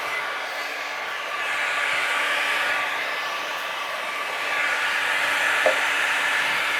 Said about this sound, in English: I'm going to turn the heat gun on